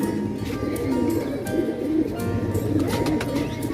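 Pigeons coo repeatedly in low, rolling calls, close and fairly loud, several birds overlapping with a few faint chirps.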